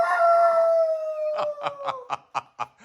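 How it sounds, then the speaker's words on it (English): A rooster crows in a drawn-out call, followed by a series of six short, evenly spaced bursts, fairly close and loud. "There's a rooster."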